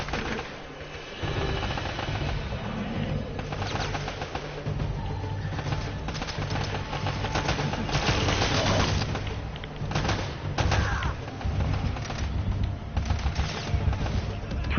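Dense gunfire from the shooter video game Uncharted: Drake's Fortune, with steady automatic bursts and shots rattling continuously for the whole stretch, mixed with game sound effects.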